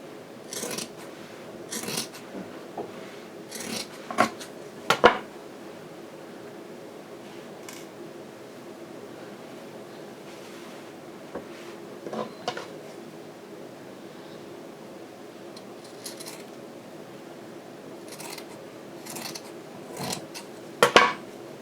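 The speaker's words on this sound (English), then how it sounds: "and then I'm going to cut it" Scissors snipping through stocking fabric at a crafting table, a few short crisp cuts in scattered bursts with quiet pauses between, close and fairly soft, no talking.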